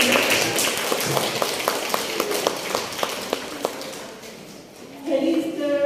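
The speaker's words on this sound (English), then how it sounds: "please have we have a round of applause for her" A small audience at a book festival claps for a guest speaker, individual claps distinct and steady for about four seconds before fading, then a voice begins speaking.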